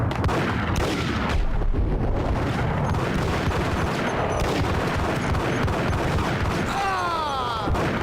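Gunfire in the Max Payne shooter game, a dense, loud barrage of shots and booms. It runs nonstop for several seconds, with a ricochet-like whine near the end.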